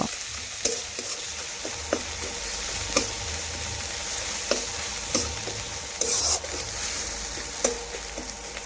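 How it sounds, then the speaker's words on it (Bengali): Spices and onions sizzle and fry in a pan while being stirred, with periodic scraping clicks of the spoon against the metal over a steady low sizzle, close and fairly quiet. "এখন ভালোভাবে পেঁয়াজের সাথে মিশিয়ে নেব মশলা আর একটু কষে নেব"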